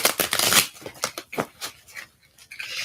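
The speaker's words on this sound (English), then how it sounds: "that was like a perfect fucking shuffle almost" A deck of cards shuffled up close: a dense rush of riffling at the start, then scattered softer flicks and taps of the cards settling, with no talk.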